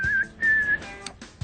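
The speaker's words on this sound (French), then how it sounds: "Les données sont converties en une série de sifflements." A quick series of high whistles encoding converted data, a few sustained tones broken by short chirpy bursts, clear and close with no speech.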